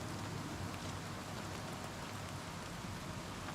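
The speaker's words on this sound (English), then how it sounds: "for some reason, it sounds like it's raining still" Steady rain ambience plays inside a dungeon in Oblivion Remastered, a constant even hiss of falling rain with no breaks, moderately loud and uninterrupted.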